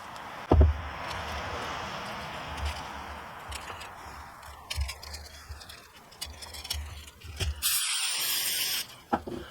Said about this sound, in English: this will help the spray oil stick to the skin a little bit better.